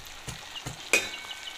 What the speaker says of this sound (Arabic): بدأ يغلى اهو